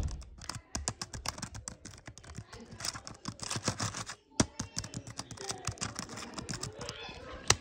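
Rapid, dense clatter of keys on a computer keyboard during an online game, steady close typing bursts with a brief pause midway, and faint voices in the background.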